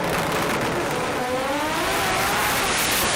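Pro Compact drag car, rotary- and four-cylinder class, launching hard off the line at a sports compact drag meet, a loud sustained engine roar with broadband tire and exhaust noise holding steady throughout.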